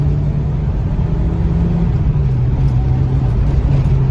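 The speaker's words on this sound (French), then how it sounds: "Oh, le bruit du moteur." Peugeot 309 GTI engine heard from inside the car as it drives, a steady loud low drone with a slight rise in pitch, no talking over it.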